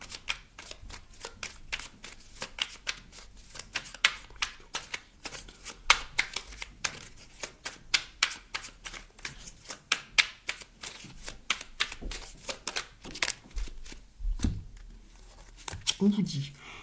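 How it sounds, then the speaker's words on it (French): Oracle cards being shuffled by hand in a series of quick, crisp riffling bursts, close and fairly loud, with a voice speaking now and then over the card sounds. "On va aller chercher une petite carte ici de l'oracle"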